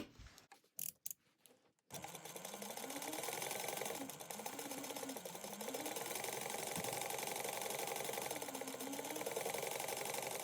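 A sewing machine basting pieces of a small bag together runs in a steady, continuous mechanical whir with a faint rising and falling motor tone, after a couple of seconds of quiet handling clicks.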